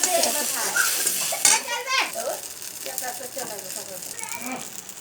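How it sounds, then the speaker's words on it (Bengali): Five whole spices sizzle lightly in a pan while pasta is cooked for a child's breakfast, with scraping and stirring clatter of utensils against the pan and a voice talking over the cooking. "পাঁচটা মশলা দিয়ে দিলাম সামান্য সামান্য ভেজে নিব"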